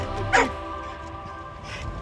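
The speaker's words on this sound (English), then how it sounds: "the dog is very loud" Out on a town street, an excited dog barks sharply once, then gives a fainter second bark, both fairly close over a constant background rumble of outdoor noise.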